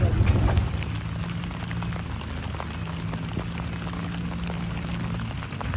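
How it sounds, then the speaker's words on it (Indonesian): Light drizzle patters steadily on a camping tent beside Lake Tamblingan in Bali, a dense, even hiss of small drops with a brief louder burst at the start. "Ini di luar sedang hujan ya, masih gerimis teman-teman."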